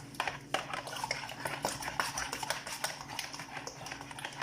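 Quick, uneven metallic clinks and scrapes of a whisk beating thick yogurt in a pot, close up and fairly quiet, with a busy irregular rhythm.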